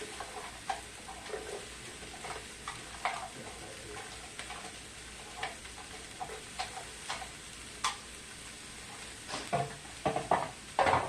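Onion cooking in a hot oiled pan, a soft continuous sizzle broken by repeated light scrapes and clicks of a utensil stirring, growing busier toward the end, with no talking.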